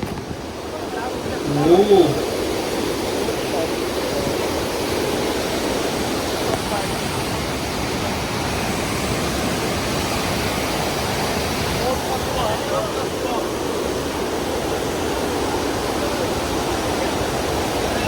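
Fast water rushing through a built channel near Haridwar, a dense, steady roar that fills the whole stretch at constant loudness, with a brief voice-like burst early on and no other talk.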